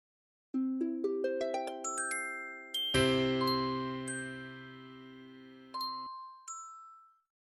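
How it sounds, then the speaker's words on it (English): Piano notes climbing from low to high in quick succession, then a deep low chord rumbles and rings, followed by a few bright high notes sparkling on top. "Same piano. One sound rumbles like thunder. One sparkles like a bell."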